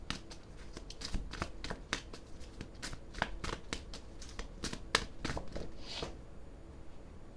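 Oracle cards shuffled and drawn by hand, a rapid series of crisp riffling snaps and flicks in a quiet room, steady for several seconds before easing off near the end.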